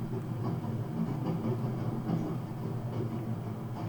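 Steady train ride ambience from the video game Master Thief, a continuous low rumble of a rail carriage with faint rhythmic clatter, heard alone at moderate level.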